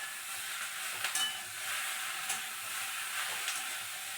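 A paste of mustard, poppy seed, ginger and green chili sizzles steadily in a pan, a soft continuous hiss broken by a few light stirring clinks.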